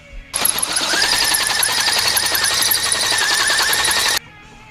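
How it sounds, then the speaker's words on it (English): A power drill whines steadily for about four seconds, boring a half-inch hole into a metal beam at close range, then stops abruptly. "I'm drilling a 1/2-inch hole"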